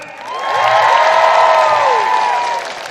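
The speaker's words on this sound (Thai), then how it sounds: "ขอเสียงปรบมือให้กำลังใจดังๆครับพี่น้องครับ" A crowd at a Pheu Thai Party campaign rally in Nan, Thailand, claps and cheers, with whoops and shouts rising over a dense, loud wash of applause that swells and holds for about three seconds.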